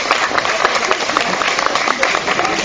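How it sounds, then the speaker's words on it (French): Audience applause fills a hall before a singer's performance, dense steady clapping from many hands with a voice speaking over it. "Et voilà, vraiment, un applaudissement."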